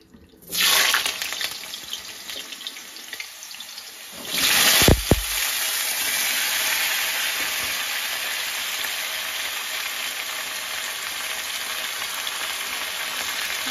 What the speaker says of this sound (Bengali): তেলটা গরম হয়ে গেছে, ধোয়া বাড়া আলুটা ছাড়ি দেবো